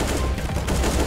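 Rapid gunfire from a Counter-Strike: Global Offensive match, a dense burst of shots filling the whole brief moment, loud and continuous.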